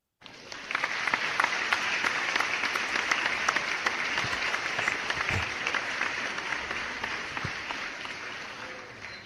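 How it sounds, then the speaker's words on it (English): Sustained applause from a crowd, dense and steady clapping starting suddenly and continuing without pause. "applause for everybody that donates here"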